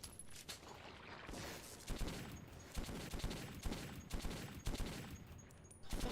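Rapid video game gunfire from Metro 2033 as money ammo is shot off, a dense fusillade of repeated shots and loud cracks running through the whole stretch without speech.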